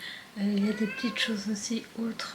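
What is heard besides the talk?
cat meowing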